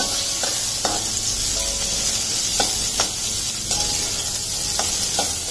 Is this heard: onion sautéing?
yes